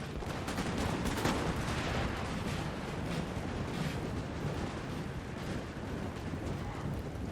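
Massed musket volleys from opposing battle lines in Napoleon: Total War, a dense, continuous crackle of gunfire rolling on without pause, loud and close.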